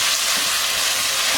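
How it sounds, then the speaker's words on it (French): Tomato paste frying in a pan, a steady broadband sizzle with no break, close and even throughout, with no talking. "c'est de faire revenir le concentré de tomate. Bien revenu."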